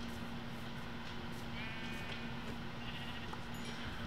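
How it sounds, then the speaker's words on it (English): Sheep in the Minecraft video game bleat faintly through a continuous hiss of background noise, with a couple of short, thin cries over about four seconds and no talking. "Yes, more sheep."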